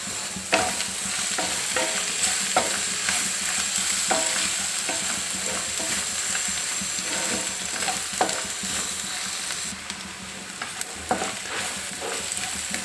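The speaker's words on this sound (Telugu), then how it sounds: "ఇప్పుడు ఇవి వేగినాయి కదా మంచిగా జింజర్ గార్లిక్ పేస్ట్ కూడా మంచిగా వేగింది" Ginger garlic paste and turmeric frying in a pan for a bitter gourd pulusu, a continuous close sizzle with repeated ladle scrapes and taps in an uneven rhythm, no one speaking.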